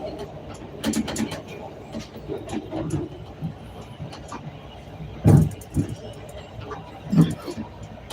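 A CTA Red Line train rumbles along on the run from Jarvis toward Fullerton, a steady low roar with a few louder bumps and clatters, while people talk over it.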